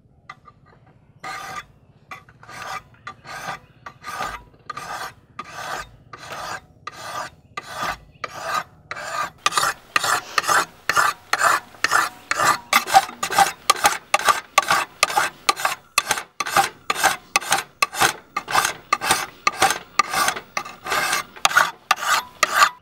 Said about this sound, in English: I'm going to make sure that this bevel is nice and clean